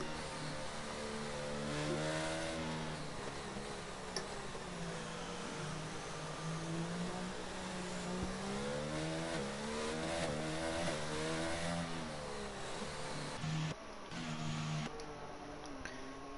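F1 22 race cars speed around the Singapore circuit in the video game, engines whining and rising and falling in pitch as they accelerate and shift, a continuous, fairly steady high-revving drone throughout.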